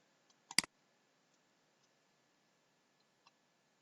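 A computer mouse clicks a button on the Kahoot website, one sharp close double click in near silence, followed by a few faint ticks.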